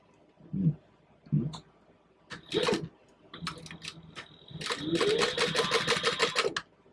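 A sewing machine topstitching a purse seam with a long stitch setting, starting with a few brief clicks and short bursts before running in a steadier stretch toward the end, close and fairly quiet.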